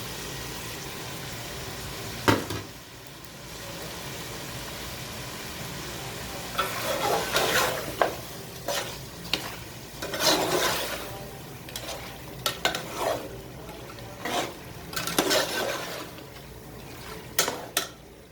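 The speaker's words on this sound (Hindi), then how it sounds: "इसको भून लूँगी 5 से 7 मिनट। गोश्त को मैंने भून लिया।" Mutton sizzles and fries in a pot with dry spices while being browned for pulao, with a steady low sizzle under repeated scraping stirs and clinks of a spoon against the metal pan.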